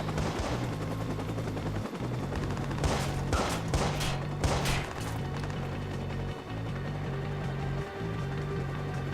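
Bursts of gunfire crack through a Watch Dogs firefight, with repeated sharp shots over a steady low game rumble, including a headshot, loud and close throughout.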